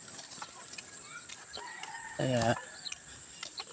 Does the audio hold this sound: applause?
no